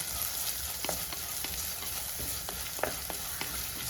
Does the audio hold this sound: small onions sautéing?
yes